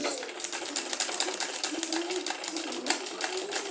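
A sewing machine topstitches an invisible zipper, giving off a fast, steady, close stream of needle clatter with a faint voice underneath.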